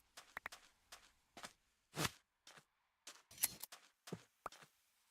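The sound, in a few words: shearing a sheep with shears in the video game Minecraft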